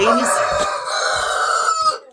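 A rooster crows loudly and close by in a single drawn-out call lasting about two seconds, with some faint background noise but no talk over it.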